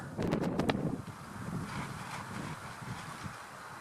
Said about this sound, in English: We're getting these huge gusts off the west side of the lake.